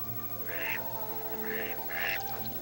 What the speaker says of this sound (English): He was watching a mother duck with her duckling feeding on a dead fish.